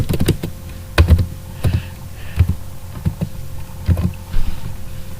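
Someone types on a computer keyboard, close and clear: irregular clusters of clicking keystrokes with brief pauses between bursts, no voices.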